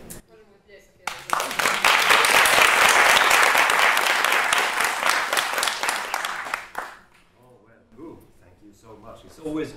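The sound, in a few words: audience applause for the speaker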